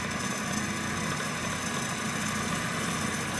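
A car engine idles steadily at 850 RPM, a constant low hum and rumble that stays even throughout with no talk.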